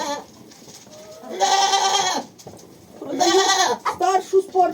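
A three-year-old farm goat bleats loudly and close by, with two long, wavering cries separated by a pause and then a few shorter broken calls at the end.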